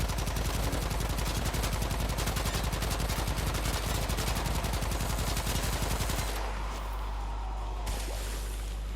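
Rapid automatic gunfire in the video game Warframe rattles nonstop at close range for about six seconds, then stops, leaving a low hum.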